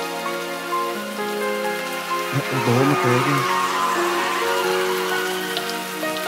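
Steady rain patter runs as a sound effect within a song, blended under sustained musical tones with a brief mumbled voice partway through.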